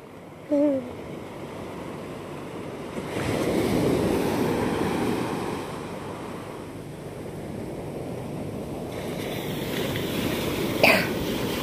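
Large ocean waves crash and wash in a continuous broadband roar, swelling near the middle, with wind noise on the microphone and a couple of brief vocal bursts.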